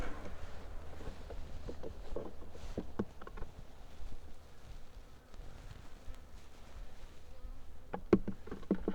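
Honeybees from a newly caught swarm buzz around hive frames, a steady low hum with individual bees droning past close by, mixed with faint handling noises.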